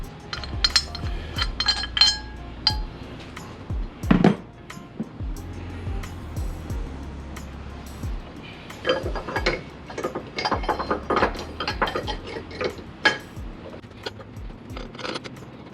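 Bolts are fitted to the transmission bracket of a fifth-generation Honda Prelude, heard as close metallic clinks and quick ratchet clicking in irregular bursts, with short pauses between them.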